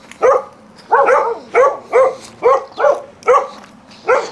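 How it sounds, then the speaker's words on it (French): Dogs on a farm in Australia bark loudly and close by, about eight sharp, evenly spaced barks in a steady rhythm. "Il y a aussi des chiens."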